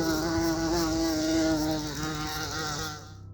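A wasp buzzes close by with a steady, droning hum that wavers slightly in pitch, then trails off abruptly at the end.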